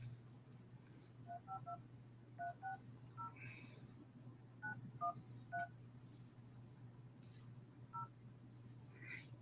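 Telephone keypad dialing tones, a run of short, evenly spaced DTMF beeps in small bursts over a steady low hum, fairly faint, with no talking.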